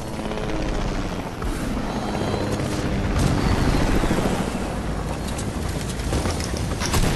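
A helicopter in a video game thumps loudly and continuously, a close, dense rotor roar that swells in the middle, with no talking over it.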